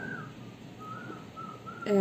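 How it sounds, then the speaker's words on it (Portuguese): A thin, wavering whistle of wind drifts in and out around one pitch over a low steady rush, with a louder burst near the end. "É o vento assobiando aqui."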